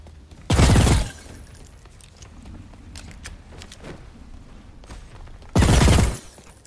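Two loud, heavy bursts of gunfire from the video game Bloodhunt, several seconds apart, each a short blast standing out over quiet background noise.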